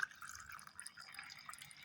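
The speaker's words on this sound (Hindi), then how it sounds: "इसमें हम पानी डालेंगे।" Water trickling and splashing softly into a container of finely ground onion-peel plant tonic, a faint, continuous pour with small dripping sounds throughout.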